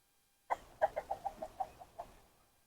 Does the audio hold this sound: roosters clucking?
yes